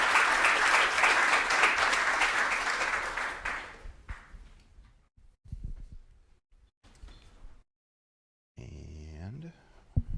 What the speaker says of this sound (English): Let's give all our flash presentations another round of applause.